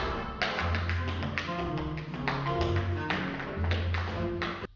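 Tap dance steps ring out in quick, crisp metallic clicks and shuffles on a hard floor, forming an uneven rhythmic pattern that is quiet and close, with faint background tone underneath.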